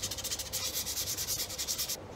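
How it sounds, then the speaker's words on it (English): Fine sandpaper rubs quickly back and forth over the sharp edges of metal shoe toe plates, a close, rapid, rhythmic scratchy rasp of about a dozen strokes with no talking. "just a quick little blast with some fine sandpaper just to take off the sharp edges"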